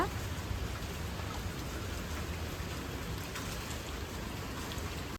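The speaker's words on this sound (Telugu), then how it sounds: "ఇంకా బయట వర్షం అయితే మామూలుగా లేదనమాట" Steady, heavy rain pours down without a break, a dense hiss of drops drumming on surfaces close by, with no voices.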